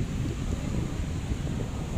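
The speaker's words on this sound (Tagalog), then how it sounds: "O, diba, lakas ng hangin" Strong wind buffets the microphone in a constant low, roaring rumble, steady and close, while a drone is flown outdoors, with nothing else standing out.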